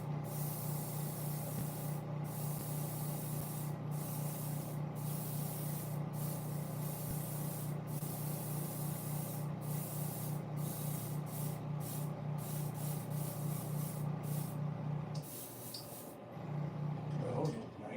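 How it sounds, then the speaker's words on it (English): An aerosol can sprays red paint onto toy panels in long steady hissing bursts with brief pauses between sprays, close and continuous, with a low hum underneath. "So we want to spray paint these red."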